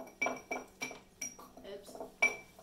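Powdered bath fizzy ingredients with strawberry scent being mixed in a bowl, a utensil clinking and scraping against the bowl in a steady rhythm of sharp knocks about every third of a second, close by.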